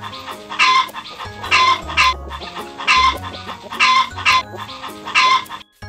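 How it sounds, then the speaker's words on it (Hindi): A hen clucks in close, loud bursts of rapid clucks separated by short pauses, repeating in an uneven rhythm over several seconds. "मुर्गी को इंग्लिश में बोलते हैं हैन। तो सुनते हैं इसकी वॉइस।"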